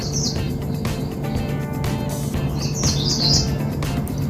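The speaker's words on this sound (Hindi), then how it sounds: "गर्मियों के दिन आ चुके हैं और पेड़ों पे चिड़िया बोल रही है।" Birds chirping in the trees on a summer day, with several bright short calls coming in bursts over steady low background hum and a passing car.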